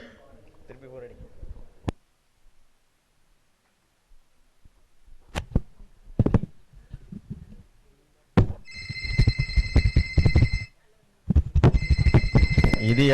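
A telephone rings during a Christmas stage drama at an Apostolic church, two bright, loud electronic ringing bursts following a stretch of scattered voices and knocks.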